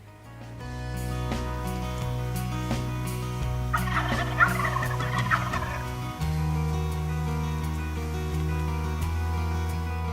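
Wild turkey gobblers on a hunt sound off in a few rattling gobble bursts over a steady low drone, fairly close and with no talk.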